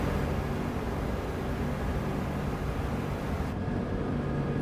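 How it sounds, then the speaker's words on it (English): Steady, loud roar of four jet engines on an airliner in the X-Plane flight simulator, a constant broadband rumble and hiss that never lets up. "Holy moly, those engines sound"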